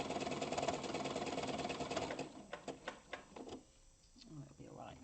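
A sewing machine stitches a fabric bowl in a steady, fast mechanical rattle for about two seconds, then stops, leaving scattered clicks and handling noises while a person talks.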